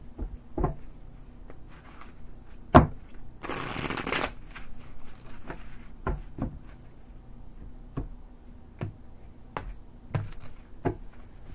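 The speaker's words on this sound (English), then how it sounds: "Two more shuffles for Pisces." Tarot cards riffle and slap together in repeated short shuffles, with one louder burst of rapid riffling near the middle and soft taps and handling noises around it in a quiet room.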